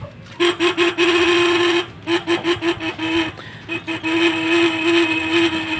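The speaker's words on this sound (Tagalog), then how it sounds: "wala no, napakahina ng busina." A thin, feeble horn on a motorcycle with a weak battery beeps in a string of short bursts, then gives longer toots, close by, over a low background hum.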